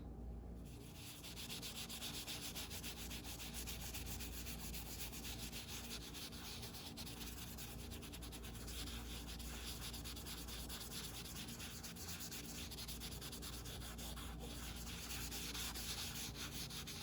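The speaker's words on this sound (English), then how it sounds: "you can use your foam brush and kind of flake off the excess leaf" Foam brush flaking excess metal leaf off a gilded surface gives a soft, continuous, close-up rubbing hiss, steady and quiet throughout, with no speech.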